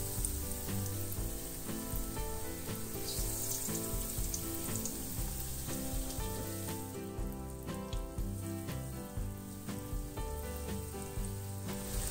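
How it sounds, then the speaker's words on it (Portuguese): Banana empanadas, made without eggs, fry in hot oil in a pan, giving a steady, loud, close sizzle with dense crackling and popping that continues without pause. "E vou deixar aqui fritando até elas dourarem de um lado para virar depois do outro lado."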